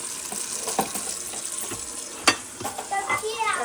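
New IKEA dishes, pots and lids are washed in warm water at a home sink, with splashing, clinks of utensils and a few sharper knocks of crockery, close and moderately quiet.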